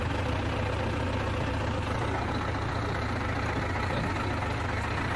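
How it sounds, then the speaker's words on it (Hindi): A Same Deutz-Fahr tractor idles after starting for a full service, its diesel engine giving a steady, even low rumble that stays constant throughout. "ट्रैक्टर को स्टार्ट कर दिया"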